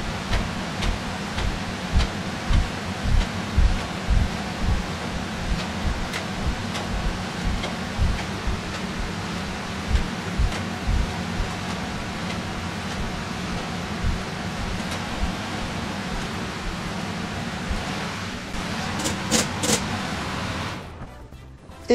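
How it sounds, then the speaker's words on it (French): A ventilation fan runs in a kitchen while shells cook on a gas burner, giving a constant broadband whoosh under a steady pattern of soft ticks, before the noise suddenly drops away at the end. "Je vais remettre un peu la ventile parce que sinon vous n'allez plus rien voir dans pas longtemps"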